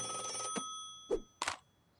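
A cartoon telephone rings, a hotline phone giving a bright electronic trill with short bursts of ringing, close and clear with nothing else around it.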